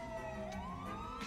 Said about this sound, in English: turn my sirens off